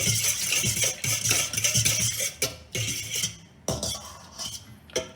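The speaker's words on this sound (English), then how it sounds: "who loves that metal on metal sound?" A metal spoon scrapes and clinks against a metal bowl while samosa dough is mixed, a busy run of close, bright scraping strokes with short pauses between them.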